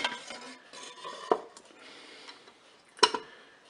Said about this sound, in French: Je vais déposer dans la cuve du Cookéo ma poêle.